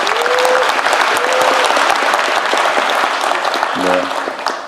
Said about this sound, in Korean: 여러분 박수 크게 부탁드립니다